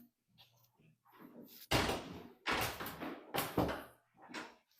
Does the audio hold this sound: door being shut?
yes